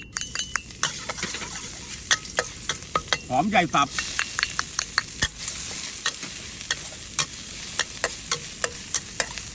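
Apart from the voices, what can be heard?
stir-frying chopped onion in a wok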